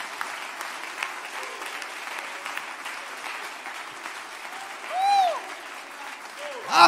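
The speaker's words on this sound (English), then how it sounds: "Clap your hands a little bit." A church congregation claps their hands at a moderate distance during a sermon, a soft steady patter of applause, with a voice rising briefly over it near the end.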